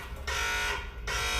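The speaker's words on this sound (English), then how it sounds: "The new text alert about the alarm going off." A car security system's text alert goes off as a steady electronic buzzing tone, pausing briefly and resuming, fairly faint and alone, from an aftermarket protection setup for a Mopar push-button-start vehicle.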